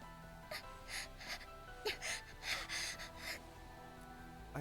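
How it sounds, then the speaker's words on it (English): A character gasps for air in the visual novel The Fruit of Grisaia, with a series of rough, breathy gasps and pants close to the listener over a steady musical background. "I roughly gasp for air"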